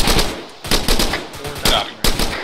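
Gunfire in the military video game ARMA 3, loud close rapid automatic bursts in several short volleys separated by brief pauses.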